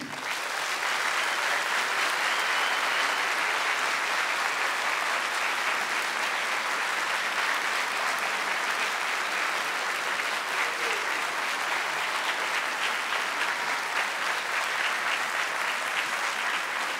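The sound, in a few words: audience applauding continuously at a concert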